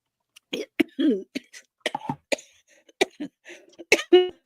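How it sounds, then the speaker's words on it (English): A series of short, sharp coughs from a woman choking on something swallowed the wrong way comes in quick irregular bursts, close by, with a couple of throat-clearing sounds mixed in. "I'm coughing, I'm joking, I got swallowed the wrong way"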